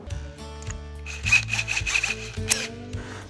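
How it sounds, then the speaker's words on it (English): An electric drill with a 6mm bit bores through metal while fitting a diesel heater in a VW T6 van, giving a steady, close whine with rough grinding bursts over about three seconds. "So we use a 6mm drill bit just to drill through that hole"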